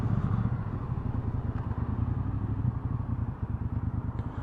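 A 2018 Triumph Bobber 1200 motorcycle rides a wet road on a rainy Glasgow Saturday, its twin-cylinder engine giving a steady close, throbbing low rumble with pulsing beats under a wash of road and wind noise.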